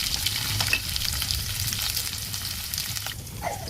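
Thinly sliced onions and three green chillies fry in hot oil with bay leaves in the pan, a steady, close, continuous sizzle with faint crackles throughout and no voices.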